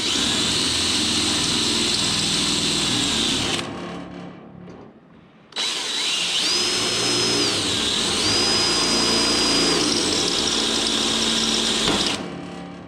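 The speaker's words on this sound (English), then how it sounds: "That was the drill bit slipping into the drill." A power drill whines loudly, cuts out briefly as the bit slips in the chuck, then spins up again with a high, wavering whir before stopping.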